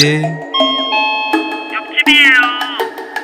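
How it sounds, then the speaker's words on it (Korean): A doorbell chimes at an apartment door, a series of clear ringing electronic tones repeated over a few seconds, fairly loud and close. "옆집은 초인종을 몇 번 더 누르더니 돌아갔다"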